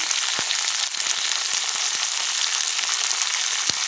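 Black cumin seeds frying in hot oil make a loud, continuous close sizzle, with scattered sharp pops and crackles breaking through now and then, and no voices.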